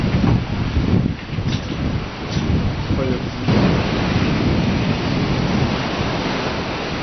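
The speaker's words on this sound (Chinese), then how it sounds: "望着这突然刮起的暴风" Sudden storm on a Thai island: dense, roaring wash of wind-driven rain with deep thunder rumbles rolling underneath, loud and continuous throughout.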